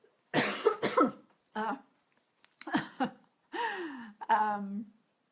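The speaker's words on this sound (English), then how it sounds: "Sorry, I'm going to cough." Several harsh coughs come in short bursts, close by, separated by brief pauses.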